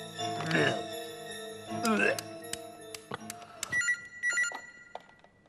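A telephone bell rings in two short bursts, then lighter electronic chirps follow while people talk nearby.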